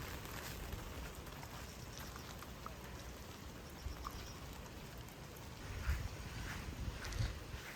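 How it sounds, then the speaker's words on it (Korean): Steady outdoor rain hissing across a broad yard with a terrace and barbecue area, a continuous close wash of drops with occasional heavier patters, no talking. "왜 이렇게 오늘 비가 오냐고요"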